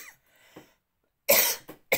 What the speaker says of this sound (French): Excusez-moi pour mes toux dans la guidance